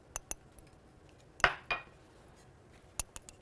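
Ingredients dropped into a shallow saucepan: a few sharp metallic clinks and taps, one louder clattering knock with a short ring in the middle, then light clicks, close and otherwise quiet.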